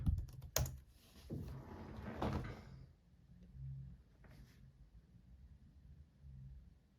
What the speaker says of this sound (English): let me type my password real quick